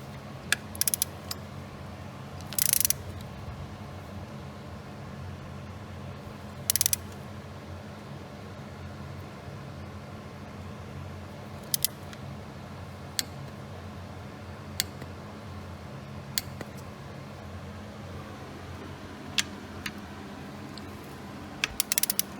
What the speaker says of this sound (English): So I'm in the process of torquing the intake down.